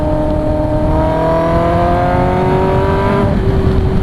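A Kawasaki ZX10R motorcycle revving at half throttle, its engine note climbing steadily in a loud, close, continuous whine before levelling off, with no talk.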